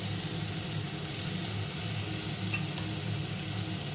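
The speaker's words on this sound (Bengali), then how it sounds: "আমি ফোড়নটা দেওয়ার পর আবার ফুলকপি ভাজছি" Cauliflower florets fry in a pan with tempered whole spices, giving a steady, close sizzle with a faint stir partway through and no talking.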